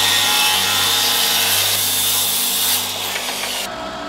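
Excess wood is cut off a van build with a power saw, a loud, continuous rasping cut that runs steadily for a few seconds before tapering and stopping abruptly.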